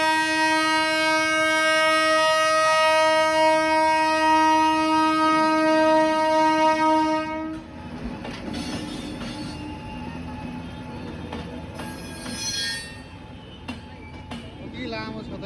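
An electric train sounds a long, loud horn blast for about seven seconds, then rolls past nearby with a rumbling, clattering run of wheels and a few sharper metallic knocks.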